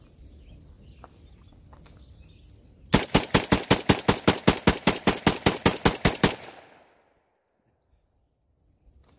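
A semiauto shotgun fed from a Silver Eagle drum magazine with 2 3/4 inch shells fires about twenty loud shots in a fast, even string. Quieter outdoor ambience with faint bird chirps comes before the shots, and near silence follows.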